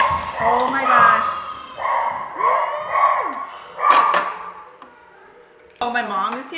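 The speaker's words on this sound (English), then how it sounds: "my dog is going crazy" A dog barks in short, excited bursts at home, several yelps in a row that stop and restart over about six seconds, with people talking nearby and a clatter of dishes.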